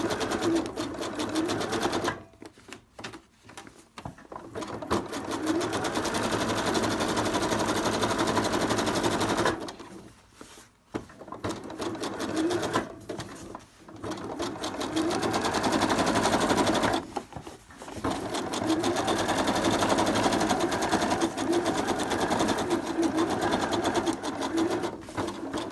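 A sewing machine stitches a patch onto a fidget mat with white thread, running in long steady bursts with brief pauses between them, loud and close throughout.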